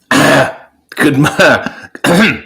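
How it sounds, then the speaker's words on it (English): A man clears his throat three times in quick, rough bursts, close and loud, with short pauses between them. "I was clearing my throat"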